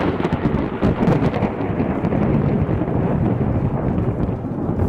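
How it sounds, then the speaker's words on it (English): Thunder in a fantasy audio drama, a loud continuous rumbling boom with crackling bursts, heavy and sustained like a storm overhead, without voices. "Thunder boomed from the dark clouds above to emphasize her cry."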